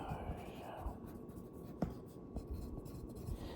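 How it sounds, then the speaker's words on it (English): Pen scratching out handwritten notes, soft close strokes and small taps under a low background hiss with quiet murmuring. "I'm going to need to write that down"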